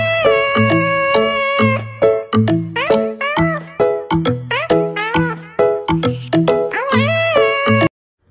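A cat meows repeatedly and insistently, loud and close, in a long run of rising and falling calls before falling quiet, at an outdoor meal near a volcano.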